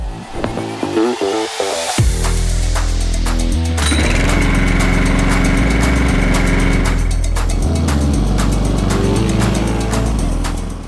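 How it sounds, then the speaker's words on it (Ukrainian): A STIHL RM 2 R petrol lawn mower engine sputters, starts, then runs steadily at a loud, even drone close by, with a brief dip in revs partway through. "Простими і швидкими рухами газонокосарка запущена і працює."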